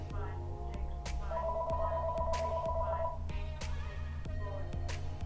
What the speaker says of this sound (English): there's the house phone. Hold on. I'm gonna get this just a second to start ringing.